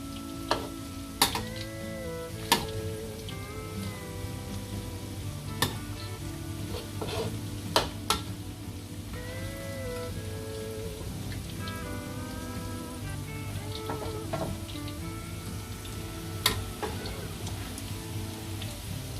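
Crispy pork belly frying in hot oil, a steady dense sizzle and crackle throughout with occasional sharper pops and spatters, close and continuous.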